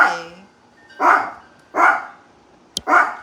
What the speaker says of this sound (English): What are you barking?